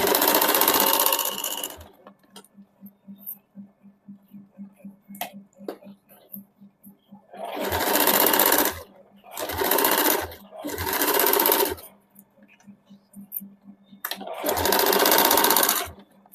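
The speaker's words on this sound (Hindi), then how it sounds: "सबसे पहले हम लोग दोनों कंधा सिल लेंगे।" A sewing machine runs in several loud bursts of continuous stitching, double-stitching both shoulder seams of a suit, with quiet pauses and faint handling noises in between.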